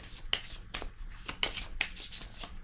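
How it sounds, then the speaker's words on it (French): Cards are pulled and slid from a deck in several quick papery swishes and flicks, close and fairly soft, repeating at irregular intervals. "Je vais piger une carte ici."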